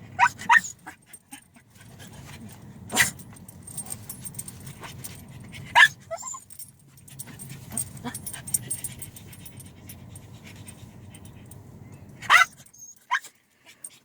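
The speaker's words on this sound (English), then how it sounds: "That dog is giving me a headache." A dog lets out several sharp, high-pitched barks spaced apart, with quieter yips and whimpers between them over a low rumble.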